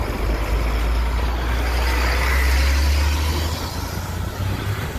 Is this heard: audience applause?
no